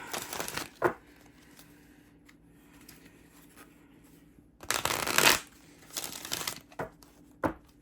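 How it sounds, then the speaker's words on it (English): Tarot cards riffled and shuffled by hand in quick bursts, a few brisk close-up rustles near the start and a longer flurry toward the end, with near silence between. "I'm going to shuffle some more here"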